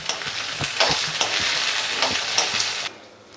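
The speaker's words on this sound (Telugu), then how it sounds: "తర్వాత ఉల్లిపాయలు వేస్తున్నాను." Onions dropped into hot oil for a beetroot curry sizzle loudly in a pan, a dense crackling hiss with stirring knocks that cuts off sharply near the end, close and with no talking.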